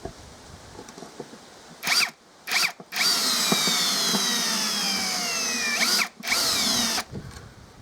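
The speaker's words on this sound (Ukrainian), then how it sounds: "Попередньо ніяких нічого не свердлим, зразу закручуємось. Сосно, сосновий брусочок такий." A PROCRAFT PA 21 Li cordless drill whirs in short bursts, then runs steadily for several seconds as it drives a screw into pine wood without a pilot hole, with whining pitch changes under load.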